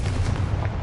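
A Confringo blasting spell explodes in Hogwarts Legacy on PS5, a rumbling, sustained blast of broadband noise with low boom that fills the short moment at moderate loudness.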